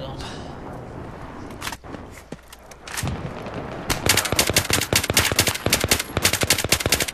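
Battlefield 3 gunfire on the Kharg Island conquest map, scattered shots at first and then sustained rapid automatic bursts, loud and close, with a game voice briefly audible near the start.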